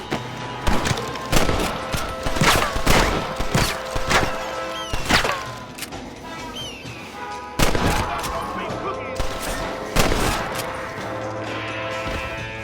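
Repeated gunshots from Red Dead Redemption on Xbox One X ring out in irregular bursts, sharp loud cracks spaced through a Western shootout amid game music and ambience, with a voice speaking briefly between shots.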